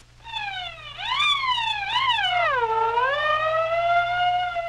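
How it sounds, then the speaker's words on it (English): A little cartoon fire engine sounds its siren, a single loud wailing tone that swoops up and down several times, clear and alone. "I blew my siren"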